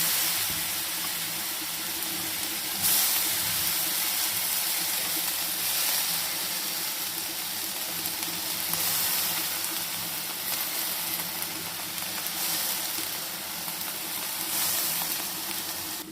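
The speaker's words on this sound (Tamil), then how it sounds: "தக்காளி நல்லா வதக்கி விட்டுட்டு இந்த கீரையை வந்து நல்லா இது அலசிட்டு அதில் போடுவோம்" Spinach tossed into a pan over softened tomatoes sizzles and hisses steadily, a dense, even frying crackle that carries close and loud for the whole stretch with no talking.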